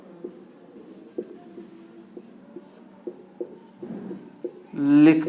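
A pen writing on paper: soft, close scratching strokes in an uneven rhythm, followed by a brief burst of voice at the end.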